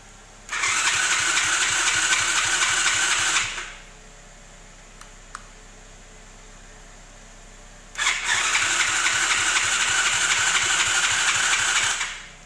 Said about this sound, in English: Alright, give it a crank, see what happens